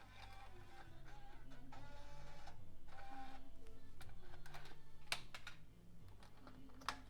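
Mechanical whirring and clicking from a Kenwood KMD-PS970R MiniDisc changer setup ejecting, a steady close motor drone with a few sharp clicks near the end, no talking.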